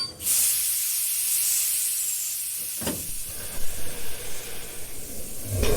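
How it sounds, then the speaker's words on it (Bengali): A large coal-fired steam locomotive hisses loudly as it comes to a stop, releasing a long bright rush of steam, then a sharp clank and uneven chuffing puffs, with no voices. "কয়লার বিশালায়তন ইঞ্জিনটি বিকট শব্দে"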